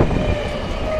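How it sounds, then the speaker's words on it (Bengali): Sealdah–Lalgola local train passing Murshidabad station, heading toward Lalgola: a steady, loud, close rumble of rolling rail cars fills the whole second without a break. "শিয়ালদা লালগোলা মুর্শিদাবাদ স্টেশন থেকে এই ট্রেনটি লালগোলার দিকে যাচ্ছে"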